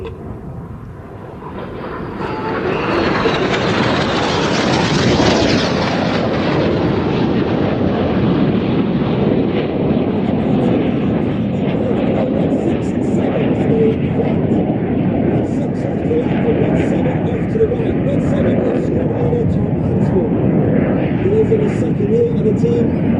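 A display jet pair dives to about 100 feet over an airfield and passes wingtip to wingtip at a closing speed over 800 mph, swelling into a loud, sustained roar that holds steady with heavy wind buffeting.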